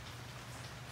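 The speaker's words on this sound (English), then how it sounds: "I'm going to upload this little video of the rain under the tent." Steady rain patters on a tent, a continuous, even hiss of drops with no pauses or voices.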